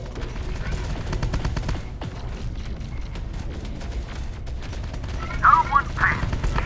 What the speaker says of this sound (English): Damn, we're taking fire.